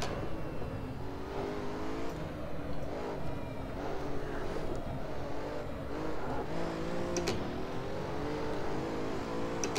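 A Pagani Huayra engine in the Assetto Corsa driving sim hums and swells steadily as the car cruises, a continuous close motor tone with gentle rises in pitch and no speech.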